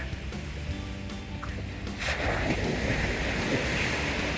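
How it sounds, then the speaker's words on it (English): Waves wash onto Driftwood Beach on Jekyll Island, Georgia, a broad, soft surf hiss under gusts of wind buffeting the microphone, swelling louder about halfway through. "Driftwood Beach in Georgia. It's on Jekyll Island."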